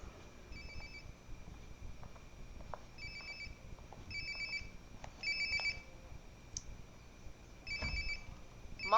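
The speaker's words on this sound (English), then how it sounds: "Sounds like my phone is definitely nearby." A phone rings nearby in the video game Life is Strange, a repeated electronic ringtone in short trilling bursts over quiet room ambience, with no talking.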